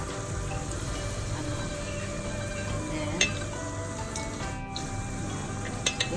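Chicken for Chinese-style fried chicken deep-frying fully submerged in hot oil, giving a steady, close sizzle with a few brief pops and no voices.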